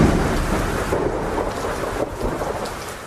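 Heavy rain pours steadily while deep thunder rumbles through it, a loud, dense and continuous storm wash with no voices.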